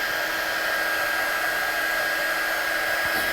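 A heat tool blows steadily to dry freshly stamped ink on paper, a continuous loud whooshing hum with no pauses.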